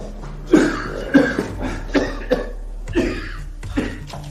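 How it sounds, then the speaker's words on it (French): A person coughs repeatedly, about seven harsh coughs at an even, labored pace, close by with no talking. "mon père tousse depuis plus de 6 mois"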